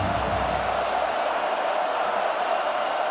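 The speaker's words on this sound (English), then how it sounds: "Penn State fans making some noise for their defense" Penn State fans at the Rose Bowl roar for their defense, a steady, broad crowd wash with no distinct claps or peaks, heard at a distance across the stadium.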